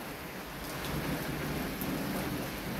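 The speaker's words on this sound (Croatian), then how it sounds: "kišnica, potok teče, kišnice iz šume, iz raznih priliva. Izlilo se iz potočića i sad ide ulicom." Heavy rain pours steadily while rainwater overflowing from a small forest stream runs down a street, a dense continuous wash of water noise with no voices.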